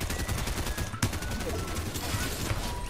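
Assault rifle fire in Fortnite Reload comes as dense, rapid bursts of close, loud gunshots, rattling almost continuously with a sharp crack at one point and clustered shots throughout.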